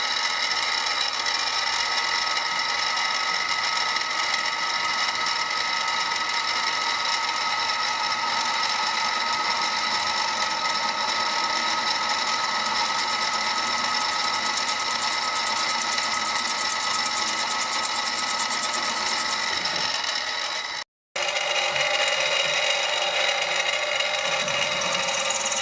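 A power drill with a medium bit bores many holes through a forged Damascus steel blank, a continuous high whine with steady grinding, briefly stopping near the end before starting again.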